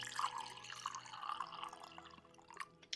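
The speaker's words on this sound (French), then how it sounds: "on va mettre un soupçon de crème. Un soupçon de crème liquide." Liquid cream poured into hot split pea purée, a soft continuous trickle with gentle drips at close range, steady for a few seconds before tapering off.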